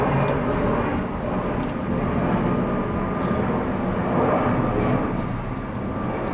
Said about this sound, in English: Goddamn airplane, man.